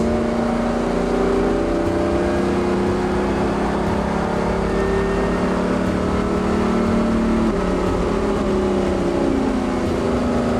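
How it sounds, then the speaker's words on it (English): A race car accelerates hard out of a corner and climbs up through the gears, its loud engine drone sustained and steady throughout with no one talking. "Accelerate hard coming off the corner. Climb up through the gears."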